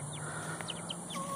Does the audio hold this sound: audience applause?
no